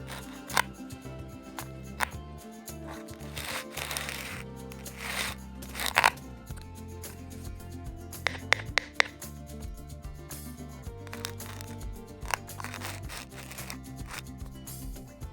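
Toy fruits being cut apart in children's play, crisp crunches and clicks at irregular intervals, with sharper snaps among softer rubbing sounds, close and quiet with no talk.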